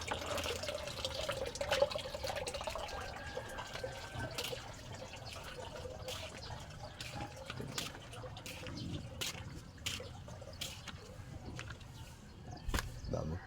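Tap water runs at a kitchen sink in a home, a steady faint trickle punctuated by drips and light clatter, with someone talking over it.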